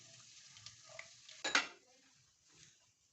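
Cumin seeds and chili flakes roast over a low flame in a pan while being stirred. A faint sizzle runs underneath, and one sharp clatter of a utensil against the pan cuts through midway, with softer scrapes around it.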